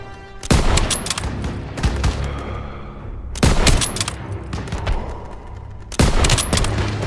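Gunfire rings out in Call of Duty: WWII, with three loud, dense volleys of rifle and machine-gun shots separated by short lulls of lingering battlefield rumble.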